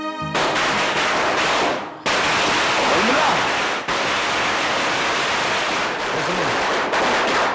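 Diwali firecrackers burst in a dense, continuous crackling barrage, loud and close, with a couple of brief pauses between volleys.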